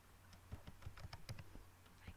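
Quick, light keystrokes on a computer keyboard tap out an uneven burst of clicks, close and fairly quiet, with no voice over them.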